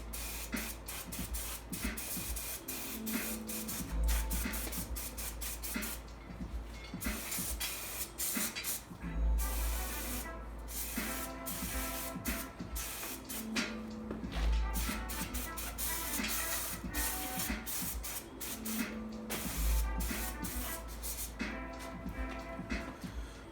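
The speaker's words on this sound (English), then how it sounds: "I'm going to hit it with some brake clean just to get that stuff off" Repeated bursts of brake cleaner sprayed from an aerosol can onto a 1981 Honda XL125S triple tree after sandblasting, steady hissing spray pulses returning at regular intervals, close and fairly loud.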